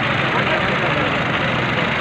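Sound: tractor engine running

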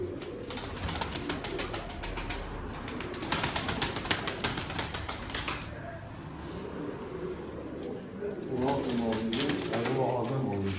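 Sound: pigeons cooing

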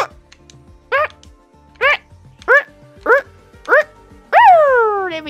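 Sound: person imitating a dog barking

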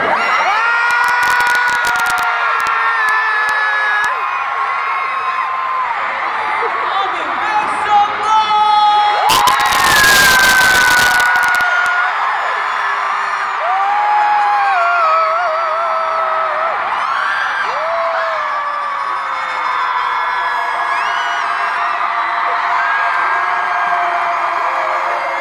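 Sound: concert crowd screaming and cheering

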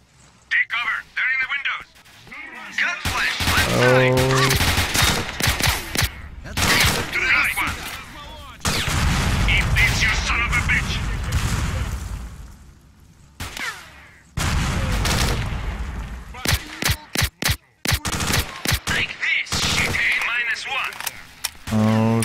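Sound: gunfire in the video game STALKER: Shadow of Chernobyl

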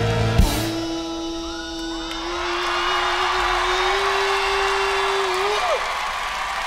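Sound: live concert crowd cheering and participating

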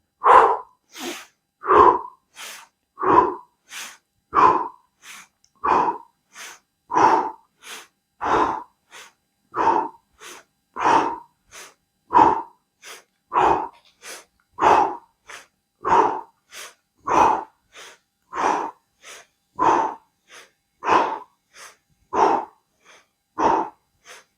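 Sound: deep breathing exercise, inhaling with instructor

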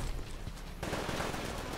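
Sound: gunfire from a powerful gun in video game Titanfall

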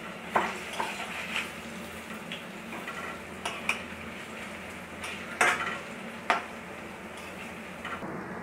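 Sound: banana flower fritters (bora) frying in oil

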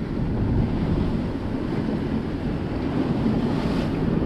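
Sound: waves and sea spray while sailing close hauled

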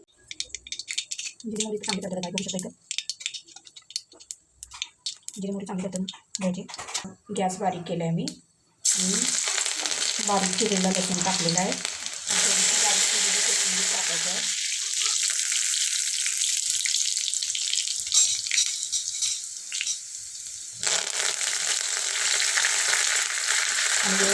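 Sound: cumin and mustard seeds tempering in hot oil

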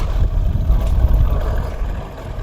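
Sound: tractor driving

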